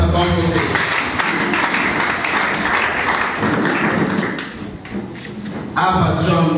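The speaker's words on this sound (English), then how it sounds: "Clap for him as he comes on stage." A school debate audience claps as a speaker walks onto the stage, a steady, dense wash of applause throughout that dips briefly near the end and swells again.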